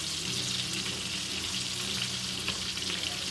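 Thin beef cutlets cut from chuck steak fry in a hot pan, a steady close sizzle with spattering crackles throughout and no voices.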